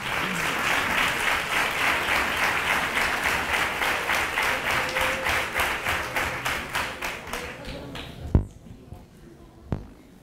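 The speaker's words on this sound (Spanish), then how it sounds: "Fuerte el aplauso para él." A crowd applauds the mayor of Nerva at a Three Kings proclamation and coronation event: dense, loud applause with a steady clapping pulse that thins out and fades, ending in a few isolated sharp claps.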